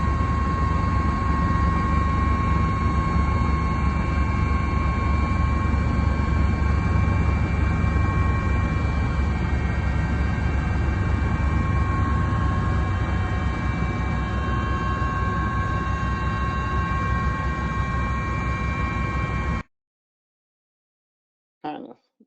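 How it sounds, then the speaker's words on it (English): A helicopter roars loud and steady for about twenty seconds, a dense continuous engine and rotor drone with tonal whine, then cuts off abruptly into silence. "Kind of loud helicopter noise."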